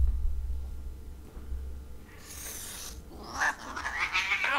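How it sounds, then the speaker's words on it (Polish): Aggressive wild cat in the video game Tale of a Hero, snarling and yowling in a few harsh, rising bursts over the second half, fairly close and loud against a low background hum, with no talking. "O, agresywne koty. Jakieś dzikie koty."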